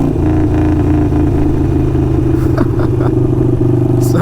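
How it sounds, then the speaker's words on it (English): Harley-Davidson Sportster 48 with a Kinetic 540 Laterals exhaust rolls off the throttle, giving a loud, close deep rumble broken by short crackling pops on deceleration. "I love the decel on this exhaust."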